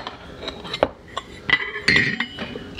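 Metal clinks and clatters as a Stanley cook kit pot holding coffee gear is handled, a series of close, irregular taps and rattles with bright ringing touches, no talking over it.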